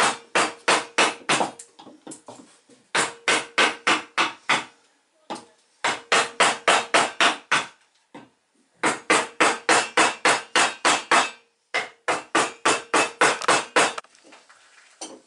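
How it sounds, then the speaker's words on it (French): A chisel or gouge is hammered into the wooden hull of a canoe: close, crisp, rapid strikes in bursts of about eight to ten, separated by short pauses. "on y va au ciseau ou à la gouge"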